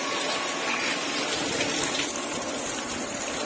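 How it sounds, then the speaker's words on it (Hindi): Heavy monsoon rain pours down in a dense, continuous hiss of water, loud and steady with a gushing, splashing texture and no voices over it. "देखो वर्षा देखो केते जोर हो"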